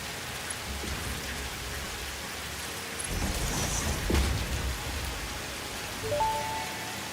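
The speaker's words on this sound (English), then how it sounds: "It's raining kittens and puppies out there." Steady rain pours down, a dense hiss of drops with a few heavier gusts of patter swelling and fading, no voices.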